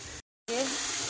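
Water poured into a well-fried Bengali curry in a hot pan, a loud rushing hiss and bubbling sizzle that bursts in after a brief silence, close up.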